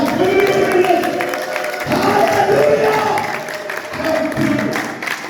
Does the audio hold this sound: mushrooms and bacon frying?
no